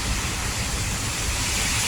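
Strong wind and rain in Bangkok sound as a loud, unbroken roar of wind buffeting the microphone over hissing rainfall, steady and close for the whole short stretch.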